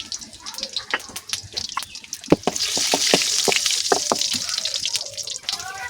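Whole cardamom, cinnamon, bay leaf and cumin sizzling in hot oil, a bright crackling hiss with scattered sharp pops and clicks that swells midway and keeps spitting steadily.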